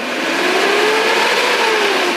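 A 2011 Suzuki Carry Futura pickup's engine is revved up to about 3000 RPM, a steady smooth mid-pitched drone held loud and close for a couple of seconds with no talk.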